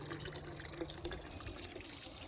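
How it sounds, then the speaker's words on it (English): Water runs and trickles steadily through an aquaponics system fed by a 175 gallon-per-hour submersible pump and a 20-foot rubber tube, a faint, continuous splashing flow. "a 175 gallon per hour submersible pump with a 20-foot rubber tube, which pumps the water through the tube"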